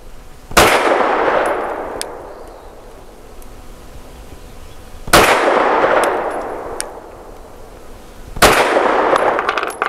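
Arex Delta M pistol firing Winchester Super Clean rounds at a range: three loud, sharp shots spaced several seconds apart, each ringing out with a long decaying echo, no talking.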